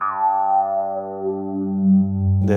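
A sustained bass guitar note through a resonant filter pedal, its bright overtones sweeping downward over a couple of seconds before a short noisy burst at the end.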